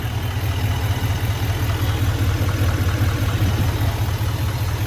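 A deep 6.6-liter Duramax turbo diesel V8 in a 2024 Chevrolet Silverado 2500HD idles steadily with a low, even rumble and light mechanical clatter, close by and with no talking.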